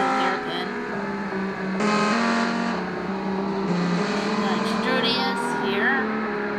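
A race car in a racing video game takes a hairpin slowly, its engine a steady buzzing drone that rises and falls in pitch, with a voice talking over it.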